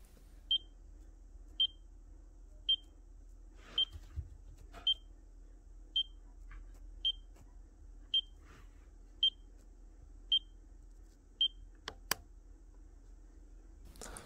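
A reptile thermostat's electronic alarm beeps about once a second, short sharp chirps repeating evenly over quiet room hum, with faint clicks between.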